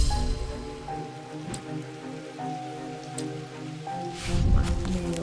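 Steady rain patters across a video game scene, a dense continuous hiss under sustained tonal chanting or music, with a brief louder surge near the end.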